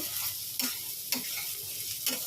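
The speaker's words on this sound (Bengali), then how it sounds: "দেখো বিট গাজরটা ভাজা চলছে" Beetroot and carrot frying in a pan with salt and turmeric, a steady close sizzle broken by three or four short scraping stirs at regular intervals.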